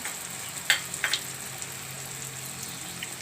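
Sev rolls frying in hot oil over a lowered gas flame, giving a steady soft sizzle with a few sharper crackles and bubbling pops early on, heard close and alone.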